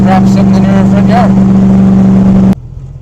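A 1970 Ford Falcon's engine idles in drive with a steady, loud low hum and slight fluctuation, someone talking over it before the sound cuts off abruptly near the end.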